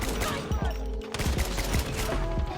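SKS rifle gunfire in the Call of Duty Mobile video game: a fast series of loud, sharp shots at an uneven rhythm, closely spaced, with a brief gap near the middle and mixed with other game sounds.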